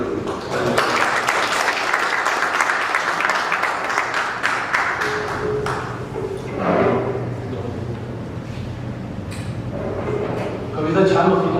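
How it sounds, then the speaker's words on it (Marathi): An audience at a Saraswat community book-launch ceremony applauds after a recited poem, a loud crowd of clapping that swells and then subsides, followed by a voice speaking with lighter clapping returning near the end. "कविता छान होती ना, आणि एकदा टाळ्या वाजवणं"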